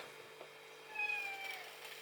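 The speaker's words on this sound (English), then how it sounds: "Oh, we've got a hungry cat." A hungry house cat gives a single drawn-out meow, fairly faint and a little distant over a quiet indoor hum, with no one speaking.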